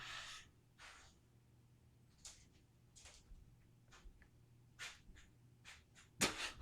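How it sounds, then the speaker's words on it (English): A dog sniffing aggressively nearby, a series of short sharp nasal snorts and huffs spaced irregularly, faint against a quiet background with a louder burst near the end. "my dog is sniffing very aggressively"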